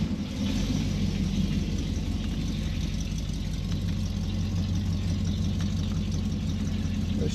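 A car idles and creeps forward slowly on a newly installed Mopar A727 automatic transmission, its engine a steady low rumble close by with no one speaking.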